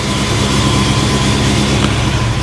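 A supercharged 347 Ford Foxbody V8 with a Holley Super Sniper fuel injection idles loudly and steadily, a dense continuous rumble and whine with no breaks.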